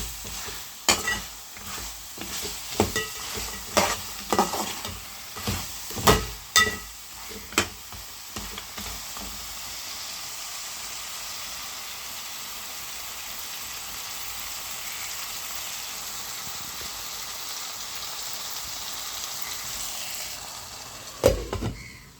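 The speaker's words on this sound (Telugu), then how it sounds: "మసాలా పచ్చివాసన పోయే వరకు ఇలా చికెన్లో వేయించుకుందాం." Village-style country chicken curry with masala frying and being stirred in a pan: irregular scraping stir strokes over a steady oily sizzle, then a long stretch of continuous frying hiss, with no talk.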